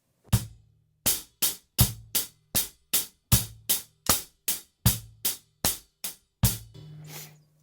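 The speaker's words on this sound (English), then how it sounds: "the 4/4 rock groove might sound something like this." Drum kit playing a stiff, tense 4/4 rock groove with a tight grip on the sticks: a dozen or so sharp, evenly spaced hits alternating low kick thumps and bright snare cracks, close and loud, ending with a ringing cymbal.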